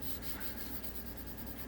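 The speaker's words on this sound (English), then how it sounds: "Now this is my my fine sanding stick." A fine sanding stick rubs a small model ship part in quick, even strokes about five per second, a close, steady scratchy rasp with no talking.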